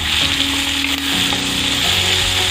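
Onion and tomato sautéing in a pan for a spicy mutton gravy, a steady close sizzle with stirring and no voices.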